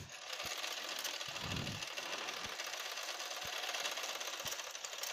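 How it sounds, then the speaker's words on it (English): A sewing machine stitching elastic onto a fitted sheet, running in a steady fast hum with a few sharp clicks and a brief louder whirr partway through. "I'm sewing the elastic on here."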